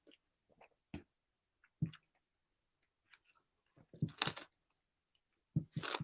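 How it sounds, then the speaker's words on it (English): Close crunching bites and chewing of food, soft and intermittent with a few crisper bursts near the end, no talking. "he apparently can hear me crunch"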